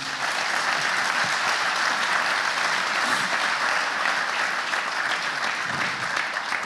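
An audience at a Pôle Habitat FFB building-industry convention applauds, with dense, sustained clapping from many hands that stays steady and fairly loud throughout.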